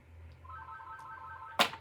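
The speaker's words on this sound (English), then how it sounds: "And of course, the phone rings." A single telephone ring chirps once near the end, loud and close with a bright burst, following a faint electronic tone in a quiet room.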